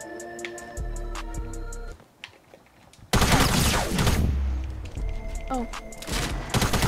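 Rapid bursts of gunfire and booming explosions fill a Fortnite match, with sharp ticking game effects at first and then dense, loud shooting; a player's voice briefly exclaims over the noise.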